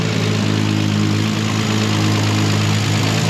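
A 2JZ engine swapped into a BMW E30 with a DCT gearbox runs steadily, a loud, dense, constant drone with strong low rumble and no clear revving in this short stretch.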